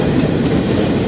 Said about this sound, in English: There's some of the train back there.